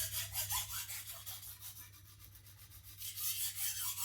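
A knife sharpened on a diamond stone, light rhythmic strokes rasping back and forth in a steady repeated pattern, close and fairly quiet, with no voices.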